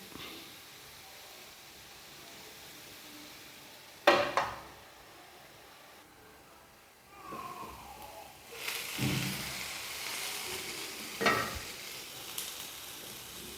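Beetroot and carrot curry simmers in a pan with a soft, steady sizzle, broken by a few sharp scraping stirs and clanks of a spoon against the pan.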